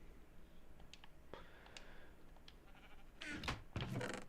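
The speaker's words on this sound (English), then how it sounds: "Yes, and some sheeps." Sheep bleating in the game Minecraft: a few faint, brief calls spaced apart over a quiet background, then a louder burst of blocky game sounds near the end.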